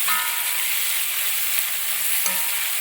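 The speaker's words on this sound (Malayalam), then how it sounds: "നന്നായിട്ട് അങ്ങോട്ട് ഇളക്കുക." Vegetables for a Kerala-style vegetable stew sizzle steadily in a pan, with a few soft clicks as they are stirred, loud and close with no voices.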